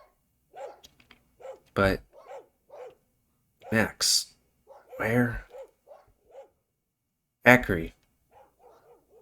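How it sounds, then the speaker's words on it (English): Dogs in a video game bark in several loud, separate bursts, spaced between short stretches of spoken dialogue. "More and more dogs join me, answering my call."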